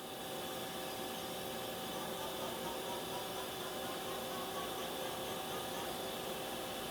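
A 2007 Mori Seiki NT-4300 CNC turning center runs its sub spindle at 1,000 RPM, producing a steady, faint mechanical whir and hum with broadband hiss and no speech.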